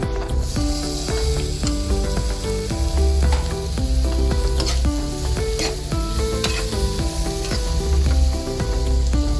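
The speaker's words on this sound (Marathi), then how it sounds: "परतून घ्यायचं आपण त्यात काजू पण घालून हे भिजवलेले काजू आहेत ते घालून घ्या" Soaked cashews sautéing in hot oil for a cashew curry, a loud, dense, continuous sizzle with spatula stirring strokes throughout, close and without speech.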